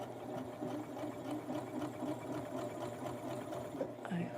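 A sewing machine stitches a retro blouse for a Western Barbie doll, a steady rapid mechanical whirr running close and continuous throughout with no pauses.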